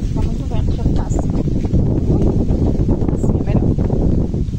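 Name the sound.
strong wind blowing outdoors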